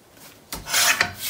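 A strip of paper being trimmed for a scrapbook page, one short dry rasping cut lasting about a second, close and quiet with no talk.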